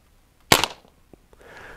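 A Crosman 2240XL airgun fires a Hot Sound Vortex lead pellet with one sharp, close crack, followed by a few faint knocks and a soft rustle.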